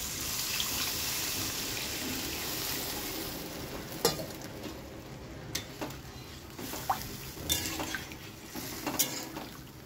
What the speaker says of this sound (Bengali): এবার আমি দিয়ে দেবো হালকা জল।